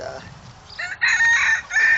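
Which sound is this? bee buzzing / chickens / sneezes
chickens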